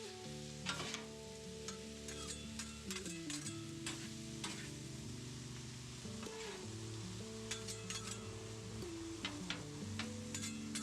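Taco meat and salsa stirred together on a sizzling griddle, steady frying hiss close up with repeated scraping and tapping of a utensil, no talk.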